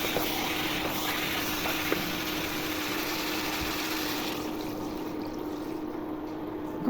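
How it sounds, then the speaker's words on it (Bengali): Water poured into beef frying in a pot, a steady broadband sizzle and rushing hiss that holds evenly throughout, close and moderately loud, easing slightly near the end. "এখন পানি দিব মাংস কষানোর জন্য।"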